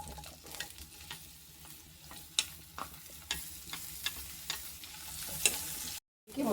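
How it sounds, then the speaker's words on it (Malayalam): Prawns fry in hot oil in a pan for a Kerala prawn theeyal. A steady sizzle runs throughout, broken by sharp clicks as a spoon stirs and taps the pan. No one speaks. "കൊഞ്ച് വറുത്തെടുക്കാം."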